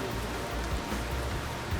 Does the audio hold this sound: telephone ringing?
no